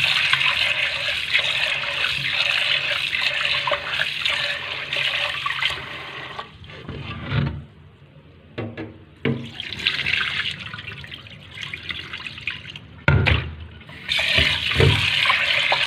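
Water running steadily from a tap while glutinous rice is washed, a continuous splashing stream broken by brief pauses and sloshing bursts.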